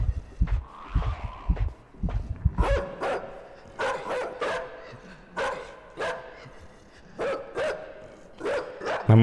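A dog in a video game barks and yips in a dark, tense setting, sharp separate barks in irregular bursts over a low rumble, fairly quiet.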